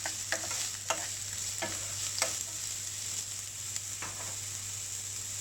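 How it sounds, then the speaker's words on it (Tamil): Onion, ginger and green chilli sautéing in a pan, a steady soft sizzle broken by a few sharp scrapes of a spoon being stirred through, close and without talk. "அதனால் கொஞ்சம் வதக்கிடலாம்."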